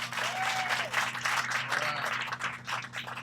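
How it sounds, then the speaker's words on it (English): Audience clapping at a Harris County Sheriff's Office safety center groundbreaking ceremony, a steady wash of applause from a moderate crowd lasting a few seconds, with faint murmuring underneath. "Let's give Eva a nice round of applause."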